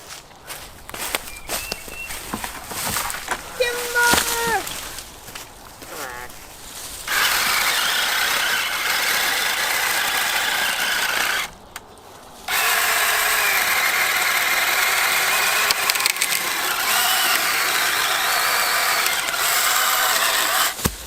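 A Saker mini chainsaw cuts a small four-inch tree in the woods during maple sugar season, a loud continuous buzzing whine after some footsteps and handling, cut off briefly before resuming steadily.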